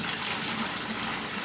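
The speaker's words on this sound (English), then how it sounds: "We'll pour the hot apple juice in first," Hot apple juice pours in a steady, close gush for a second and a half, a continuous liquid wash with no voices over it.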